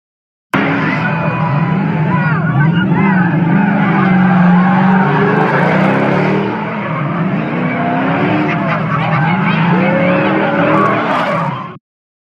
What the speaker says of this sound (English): the car peeling out and going in circles and revving his engine